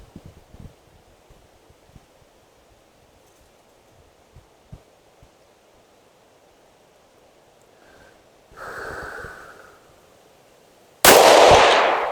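A single loud, sharp rifle shot from a Ruger American Ranch in 6mm ARC fitted with a chassis, fired outdoors near the end after quiet wind, light handling clicks and a brief breath.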